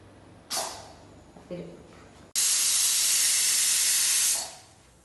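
A pressure cooker whistle: a loud burst of hissing steam shoots out for about two seconds after two short earlier puffs, then cuts off, close by.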